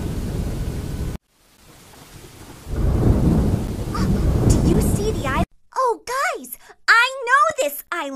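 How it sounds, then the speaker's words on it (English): A roaring rumble of thunder with rain noise swells and fades, followed by an excited voice speaking loudly. "The storm!"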